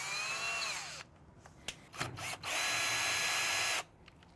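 A power drill whirs in bursts while backing a screw out of a washer pedestal clamp, with a long steady run, short stop-start pulses and a final sustained whine that cuts off.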